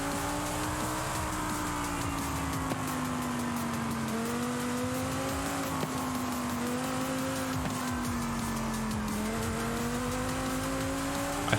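A car engine in Forza Horizon revs steadily at close range, its pitch rising and dipping through throttle changes over a continuous low drone, with a faint whir and no talking.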